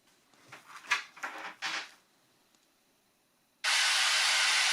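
A faulty Roland XV-5050 synth module, just sprayed with DeOxit contact cleaner, starts with a few soft handling rustles, then a loud, constant electronic hiss cuts in abruptly and holds steady.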